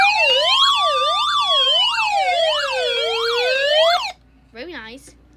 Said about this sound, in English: let's do a SOS comparison siren